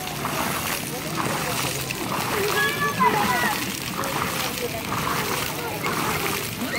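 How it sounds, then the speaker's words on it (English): Children splash and slosh in the shallow water of an outdoor splash pad, a steady close wash of spraying and splattering water with small voices mixed in throughout. "Go play in the water."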